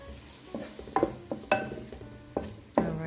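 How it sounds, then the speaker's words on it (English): Onions and green and red peppers sizzle softly in a pan, punctuated by several sharp stirring clinks of a utensil against the pan. "I'll start by frying the onions and the green and red peppers, and then I add in the tomatoes"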